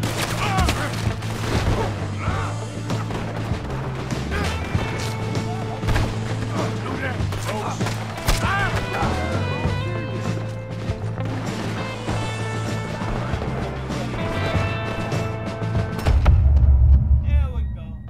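Gunfire in the Western video game Red Dead Redemption 2: repeated sharp shots and volleys cracking over a busy, loud battle bed, with a heavier burst of booms near the end.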